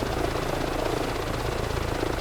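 Helicopter flying in Microsoft Flight Simulator 2024, a continuous loud rotor thump and turbine whine throughout, with no voices.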